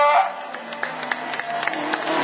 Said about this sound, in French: On peut l'applaudir, le vainqueur de Saléras.